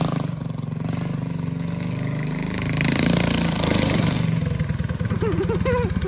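A Big Block Baja Warrior mini bike engine revs loudly and steadily with a throaty drone, pitch rising and falling as it pulls, with tire spin and voices talking over it near the end.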